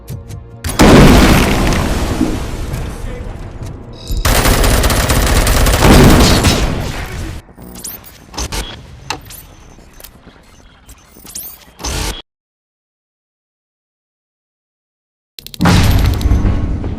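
Heavy gunfire in the RoboCop Rogue City video game: loud sustained bursts with booming impacts, then sparser scattered shots and clatter, a few seconds of total silence, and another loud burst at the end.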